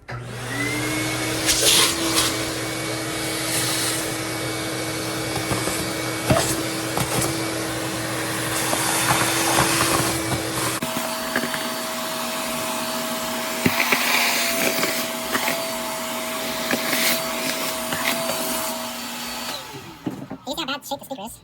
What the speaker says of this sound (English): And now we're going to put our vacuum on.